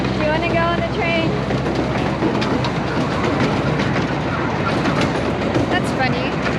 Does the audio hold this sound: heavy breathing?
no